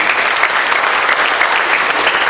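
A church congregation claps loudly during a sermon, a dense, close, continuous burst of many hands with no talk above it.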